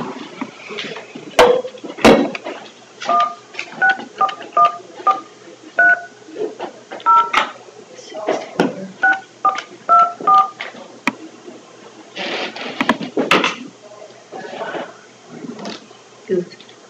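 Several bursts of telephone keypad dialing tones, paired beeps in quick clusters, sounding at a county office under intermittent nearby talk and room noise.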